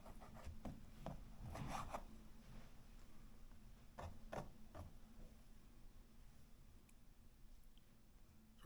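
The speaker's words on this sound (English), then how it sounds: "I'm going to take some of these strips, I'm going to cut them into smaller pieces." A knife slices chicken strips into bite-sized pieces on a cutting board, making faint, scattered rasping strokes and soft taps in short irregular bursts, with quiet pauses between cuts.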